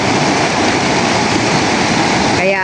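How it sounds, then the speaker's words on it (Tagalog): Strong, fast-flowing current of the Lisap River rushing steadily, a loud close broadband roar of churning water with no let-up. "At dito naman po ang agos po ng tubig ay sobrang lakas."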